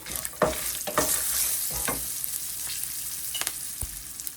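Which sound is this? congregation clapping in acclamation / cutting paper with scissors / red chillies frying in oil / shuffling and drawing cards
red chillies frying in oil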